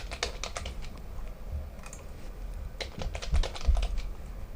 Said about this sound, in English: You can type in, and I'll just type test here.